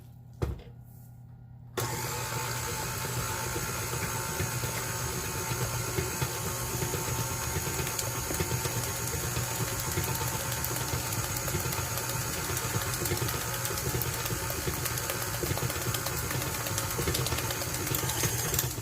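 An electric mixer whirs steadily through zucchini muffin batter, a loud continuous motor drone starting after a brief quiet moment and running unbroken, with no talk.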